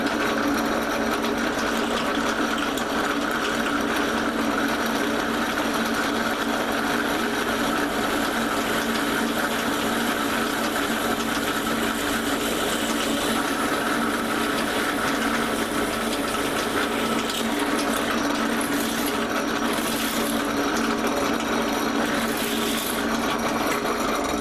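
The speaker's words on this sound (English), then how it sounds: "I'll set my drill speed according to drill bit size and the material" A drill whines steadily and continuously at close range for a long stretch, its pitch holding constant as it bores through a part for a plastic injection molding machine, with no voices.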